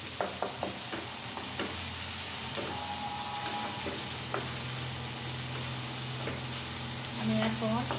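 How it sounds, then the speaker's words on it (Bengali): Onion paste sizzles in a pan over half-fried chopped onion for a potato and shrimp curry, with a continuous close frying hiss, several sharp utensil taps early on and steady stirring scrapes. "আধা ভাজা করে আমি এখন পেঁয়াজের পেস্টটা দিয়ে দিচ্ছি।"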